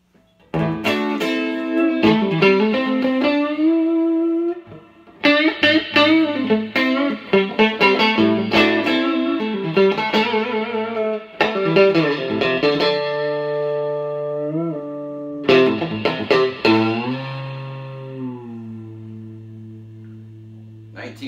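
A 1963 Stratocaster electric guitar played through a vintage Fender Deluxe amp with reverb, ringing chords and single-note phrases with clear sustained tones and pauses, played alone without talk.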